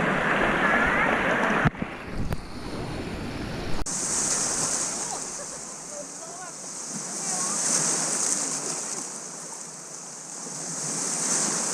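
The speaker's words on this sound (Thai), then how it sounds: "แต่มันจะมีคลื่นนะ คลื่นมันก็จะไล่จากตรงนู้นมาปึ๊บ" Waves roll in an artificial sea wave pool at Siam Park water park in Bangkok, a broad continuous surf wash with wind buffeting the microphone and a few sharp knocks, while someone talks over it.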